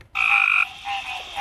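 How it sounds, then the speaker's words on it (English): Frogs croak steadily from the grassy water of a ranch at night during breeding season, a loud close chorus of buzzing calls with a sustained trill that drops off and then resumes, with no voices. "Every now and then you'll hear a deeper croak."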